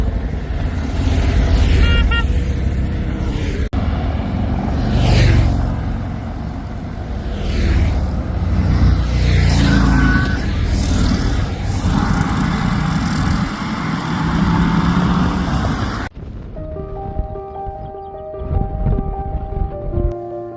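Noisy motorbikes pass along a road through rolling Oklahoma plains. Several swooshing pass-bys are buried under loud, buffeting wind, and a calmer stretch follows at the end.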